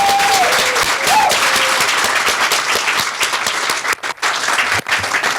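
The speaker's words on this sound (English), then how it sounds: "Let us give Ziehl-Abegg a thunderous round of applause." Loud, continuous audience applause fills a groundbreaking ceremony for the company Ziehl-Abegg, a dense crowd clapping steadily with a couple of brief whistle-like tones near the start.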